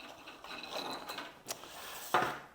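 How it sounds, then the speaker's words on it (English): Zipper on a life jacket being pulled closed, a close, quiet ratcheting rasp in short uneven strokes ending in a sharper final click. "continue zipping till you get to the bottom"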